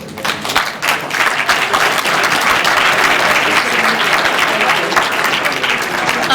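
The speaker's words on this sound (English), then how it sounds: "one more round of applause, folks, for our staff" Audience applause at the close of a Vermont legislative briefing, a steady dense wash of many hands clapping that swells after the first second and holds strong to the end, with no voices standing out.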